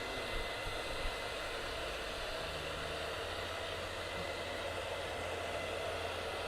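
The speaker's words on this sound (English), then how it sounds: "with a round brush, so we're just drying the side of the hair" A hair dryer on medium heat and medium speed runs steadily at close range while side hair is dried with a round brush for a beard and haircut style, a constant, even whoosh.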